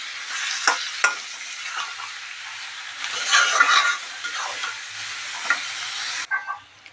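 Salted meat is stirred in a hot pan, a soft sizzling with scraping spoon strokes and brief louder clatters against the pan, ending abruptly.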